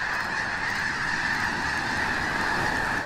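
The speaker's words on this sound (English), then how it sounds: "a blizzard of snow geese make the Skagit Valley home" A large wintering flock of snow geese in the Skagit Valley honks loudly and continuously, many overlapping calls forming a dense, nearby chorus.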